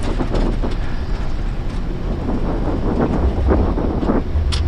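Airbus A340 engines roar in reverse thrust after touchdown at Zurich, a steady broad rumble heard from the cockpit with faint rattles on top, no talk.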